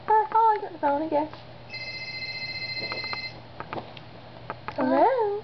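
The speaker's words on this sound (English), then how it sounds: "Oh, I got the phone, I guess." A telephone rings with a repeated electronic trill, set between bursts of a cartoonish high voice before and after, the ring clear and fairly close in a comedic scene.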